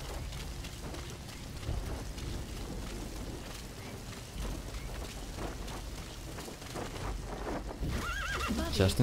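A horse whinnies over a dense, rumbling Metal Gear Solid V: The Phantom Pain game soundscape with rapid hoofbeats and scattered impacts, the neigh rising clearer toward the end.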